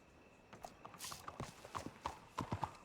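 Horse hooves clip-clopping in Red Dead Redemption 2, a string of quiet, close hoofbeats walking at an uneven pace, with a brief breathy burst near the start.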